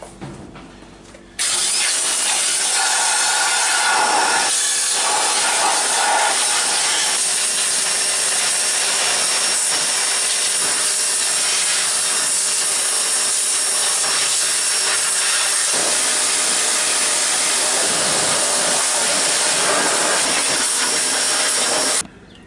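A Portland 1750 PSI pressure washer sprays a degreased, grimy engine, a loud continuous hissing spray that starts abruptly, holds steady for about twenty seconds with slight changes as the jet moves, then stops.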